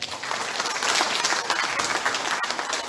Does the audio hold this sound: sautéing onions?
no